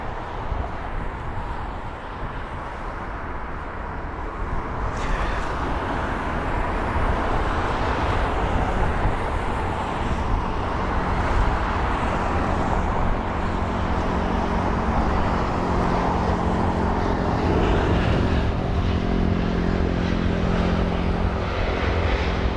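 Air Serbia Airbus A319 touching down at London Heathrow, a steady loud roar of engine and rushing air swelling across the whole stretch, with a brighter burst near the start of rollout.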